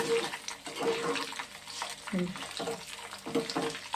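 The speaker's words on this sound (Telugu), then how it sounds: "ఆవాలు, జీలకర్ర, ఎనిమిరగాయలు వేసానండి తాలింపుకి" Mustard seeds, cumin and chillies sizzle in hot tempering oil, a steady crackling fry with small pops and bursts. Someone talks over the cooking.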